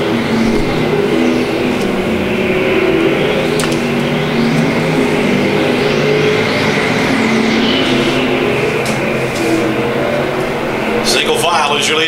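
Race cars circle a dirt oval at Thunder Hill Speedway, a continuous loud engine roar with passing swells and a commentator talking over it throughout.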